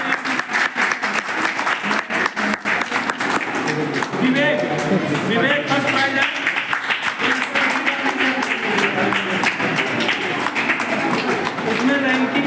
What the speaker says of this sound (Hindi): ताली बजाओ तुम्हारे।